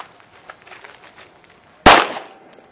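A handgun held with a loose grip fires one loud, close shot whose sharp crack rings out and decays after a few seconds of quiet rustling.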